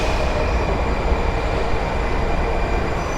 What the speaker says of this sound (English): So train's arriving, I hope. Sounds like it.